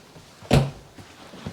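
A single quick thud of a drawer sliding shut in a 2023 Forest River Timberwolf 39SR RV, close and fairly soft, with faint room noise around it.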